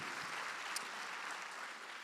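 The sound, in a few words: audience applause for veterans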